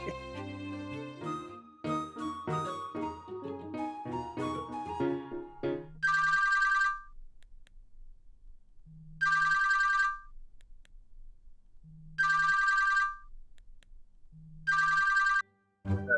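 A telephone rings four times in evenly spaced bursts of bright electronic trill after a stretch of music, with silent gaps between rings and no talk.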